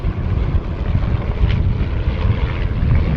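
A propeller aircraft drones overhead during the flying display at a vintage air show, a loud, steady engine roar that holds throughout with no voices.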